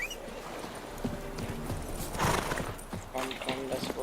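Roach the horse's hooves clip-clop in The Witcher 3: Wild Hunt, with a brief whinny, while someone talks over the game.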